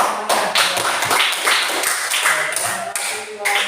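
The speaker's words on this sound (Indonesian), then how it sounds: "Oke, tepuk tangan semuanya" Classroom students clapping together, brisk and close, a dense burst of hand claps with uneven bursts over a few seconds.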